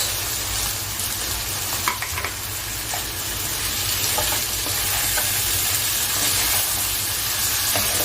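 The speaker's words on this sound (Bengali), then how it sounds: "এখন আমি দিয়ে দিচ্ছি কচুর লতিটা সেদ্ধ করে রাখা কচুর লতি চিংড়ি মাছ" Boiled taro stolons and prawns fry with onion, garlic and tomato in a pan, giving a steady loud sizzle and hiss with occasional stirring scrapes throughout, no talk.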